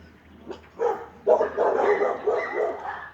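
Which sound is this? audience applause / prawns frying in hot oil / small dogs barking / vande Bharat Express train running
small dogs barking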